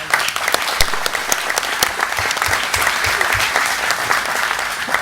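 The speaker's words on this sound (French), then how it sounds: "Nous l'applaudissons bien fort." Audience at a national conference applauding a guest from the Marquesas Islands, dense continuous clapping from a large crowd with some sharper individual claps standing out, heard alone.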